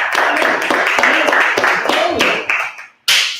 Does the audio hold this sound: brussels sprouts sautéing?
no